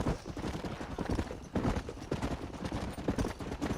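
Horses clip-clopping in Red Dead Redemption, a continuous dense patter of hooves close by, steady and busy throughout with faint background noise, no talking.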